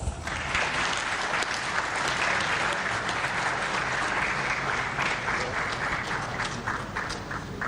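Steady, dense applause from a large audience at an airline association's annual general assembly, loud and continuous throughout with no voices over it.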